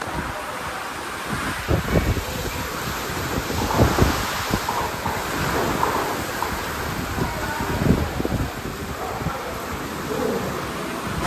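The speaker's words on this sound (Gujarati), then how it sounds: "પવનવાળો વરસાદ ઝાડવા બાડો ઉડાડી દેવો." Wind-driven rain from Cyclone Biparjoy roars steadily in a village, with gusts buffeting the microphone and occasional low rumbles throughout.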